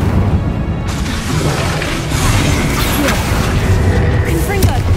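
Incendio fire spell cast repeatedly in Hogwarts Legacy during Percival Rackham's trial, a continuous roaring, crackling burst of flame with booming low rumble and pops, loud and sustained amid game combat noise.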